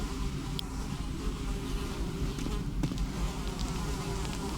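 Flies buzz steadily in a dark cave setting within the Secret of Weepstone game, a continuous droning hum with faint higher whines and soft scattered clicks over a low rumbling ambience.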